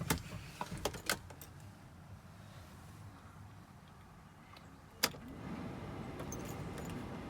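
Keys jangle on a 2014 Mercedes Sprinter 316 van, followed by a sharp click and the low, steady hum of the engine starting and running, with no voices.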